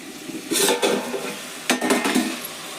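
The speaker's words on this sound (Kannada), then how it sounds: "ಫ್ರೈ ಆಗತೈತಿ ಇನ್ನೊಂದು ಚಲೋ ಇದ್ದಂಗೆ ಫ್ರೈ ಮಾಡೋಂಥದ್ದೆ ಎಣ್ಣೆ ಒಳಗೆ" Chicken gravy masala frying in oil in a pan, with two bursts of scraping stirring against the pan over a soft continuous sizzle.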